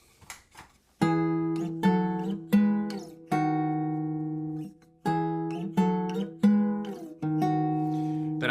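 A classical guitar plays a melody over a low bass line, notes plucked in a steady, unhurried rhythm with ringing sustain.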